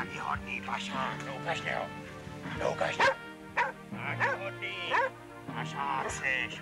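A tracking dog barks repeatedly at found game in short, loud bursts with whimpering yips between, close by, with a person's voice speaking in between.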